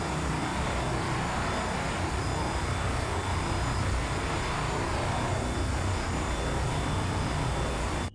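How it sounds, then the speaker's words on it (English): Several helicopters fly overhead in the naval combat game Sea Power, a loud, steady broadband engine and rotor roar filling the whole stretch without letup, no talking. "This is a lot of helicopters."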